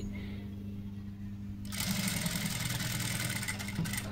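A sewing machine stitches three layers of blouse cloth together in a tailoring class. A steady low motor hum runs throughout, then about halfway through a denser, brighter whirring of fast needle strokes starts up and continues, close and even.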